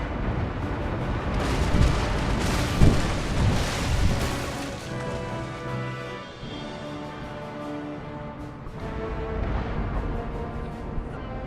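Naval cannon fire in an Empire: Total War sea battle, with heavy booming broadsides and crackling shots layered over a continuous loud battle rumble, strongest in the first seconds and then settling into a steadier din.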